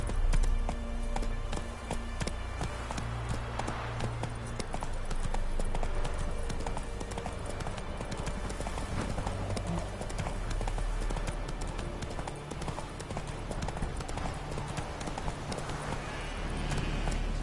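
Hoofbeats of the horse Roach galloping in The Witcher 3 video game, a fast, steady clip-clop running throughout at close range over a constant game ambience, with no talking.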